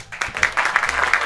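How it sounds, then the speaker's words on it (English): Brief applause bursts out from a live audience at a jazz music evening, a close, dense patter of many clapping hands that starts abruptly and carries on. "let's give a round of applause for Jazz"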